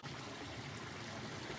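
Steady rushing and trickling of a mountain stream in the Middle Prong Wilderness, heard up close while water is collected on a hike, continuous with no voices.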